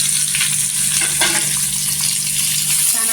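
Sliced onions frying in oil in a pan, browning for a paneer masala gravy, with a loud, dense, continuous sizzle and crackle and some stirring, close up with no talk.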